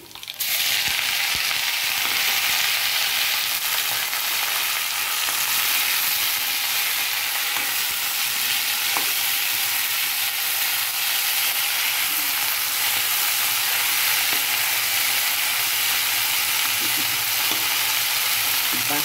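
Fresh drumstick leaves crackle and sizzle loudly in hot tempering oil, a dense, steady frying hiss with scattered pops that runs unbroken for the whole stretch, no voices over it.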